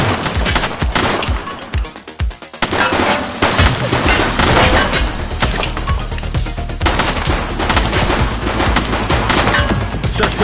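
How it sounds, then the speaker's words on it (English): A shooting suspect fires a rapid barrage of loud gunshots, sharp cracks repeating in dense volleys with a brief lull early on before the shooting resumes and keeps going. "He's shooting!"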